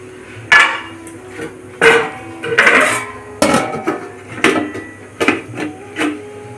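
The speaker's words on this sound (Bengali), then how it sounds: "আমি এখন টিফিন বক্সটা এর উপরে বসিয়ে দেবো, দিয়ে এটাকে ঢাকনা দিয়ে দেবো" Metal clatter of a steel tiffin box being set onto a pot of steaming water and covered with its lid while cooking hilsa fish bhapa, a series of sharp, close clanks and knocks spaced irregularly with quiet gaps between.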